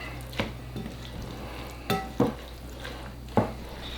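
Tuscan chicken is stirred in a pan, with a few distinct scrapes and clinks of a utensil against the pan over a faint, low sizzle, spaced irregularly and fairly quiet.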